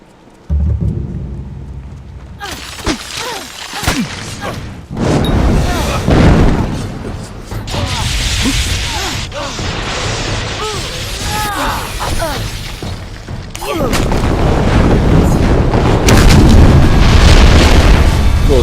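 Explosions in the video game Kingdoms of Amalur erupt as deep booming rumbles, starting abruptly and swelling into a dense, thunderous roar that builds louder toward the end.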